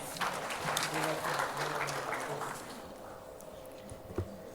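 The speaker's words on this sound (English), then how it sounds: "Please welcome with a round of applause." An audience claps in steady applause that gradually thins and fades, with a voice speaking faintly over the clapping.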